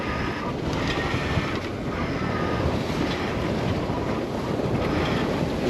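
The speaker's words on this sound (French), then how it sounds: "il y a tellement des rafales puissantes, et 2 riz dans le génois. Et ça y est, ça commence à souffler" Strong gusts buffet a sailboat under genoa among the Greek islands, a loud, steady roar of rushing wind and water noise running throughout with no voices.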